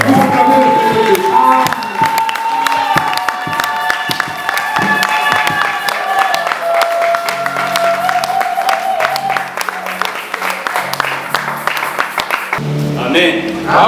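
A church congregation applauding and cheering, a loud, sustained wash of clapping and shouts that fills the room, with a voice speaking over it.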